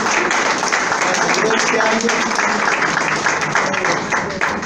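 Church congregation applauding during a Spanish-language sermon on God's faithfulness, a dense steady wash of clapping lasting throughout, with the preacher's voice speaking over it.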